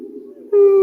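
A human voice imitates a whale sound, starting with a low wavering hum and then jumping into a sustained, bright, steady tone held briefly and loudly.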